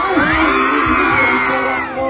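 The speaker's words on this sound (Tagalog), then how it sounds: "Isang hiyawan mga parcha!" A crowd at a birthday party lets out a loud, sustained roar of whooping and yelling voices. The sound holds strongly for about two seconds and dips only briefly at the end.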